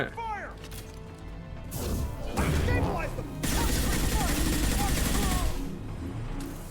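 Gunfire in the video game Mass Effect 2, loud bursts and crashing impacts in a chaotic firefight, with game voices and whooshing effects mixed in.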